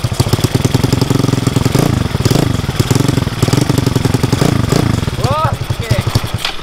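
Close and loud, a racing-spec Yamaha Mio motorcycle engine idles with a fast, steady, throbbing firing rhythm, its pitch shifting slightly toward the end.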